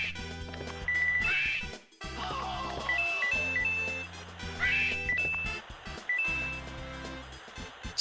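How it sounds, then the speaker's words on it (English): A squawking, bird-like game sound effect repeats in short quacking bursts over busy background music and clatter. "Sounds like a bird."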